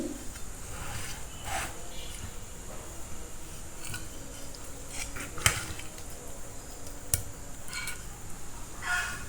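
Cooked chana dal with vegetables is served into a dish, with soft scraping and a few sharp clinks of a spoon against the pot, fairly quiet throughout.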